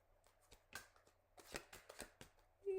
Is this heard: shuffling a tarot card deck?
yes